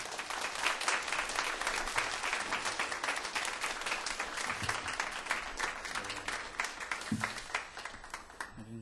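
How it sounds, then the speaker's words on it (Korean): A church congregation at a Korean church service in Milan applauds to welcome a visiting pastor, with steady, dense clapping throughout at moderate, somewhat distant level, with no talk over it. "우리 큰 박수로 환영의 뜻으로 박수"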